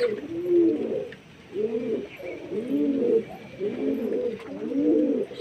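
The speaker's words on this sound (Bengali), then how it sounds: "আর এখানে কিছু পায়রা চান করছে।" Pigeons coo in a steady series of soft, throaty, rolling calls while bathing in water, several birds overlapping at close range with a faint hiss in the background.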